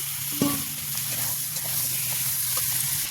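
Spiced marinated meat hitting a pan of fried onion and garlic, a loud steady sizzle with a sharp clatter near the start.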